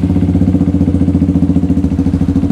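A small 2019 motorcycle engine with about 74,000 on the clock, running close and loud with a steady, rapid, thumping idle pulse in a low, even rhythm that resembles a racing KLX.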